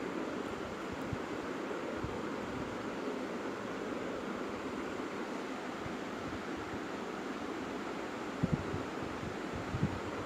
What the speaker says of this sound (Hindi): पीछे पानी गिरने लगा है बोलो।